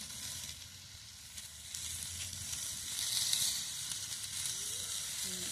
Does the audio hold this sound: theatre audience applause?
no